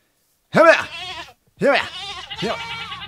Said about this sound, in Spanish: vamos a matar a esta cabra